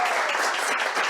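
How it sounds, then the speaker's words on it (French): An audience claps together to applaud a guest named Kaina at a French speed-coaching session, with steady dense applause filling the whole second, close and loud, and no talk over it. "qu'on peut tous applaudir Kaina?"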